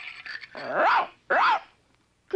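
A dog in an animated film growls and barks in a few short bursts, loud and close, with a brief pause between them and another starting at the very end.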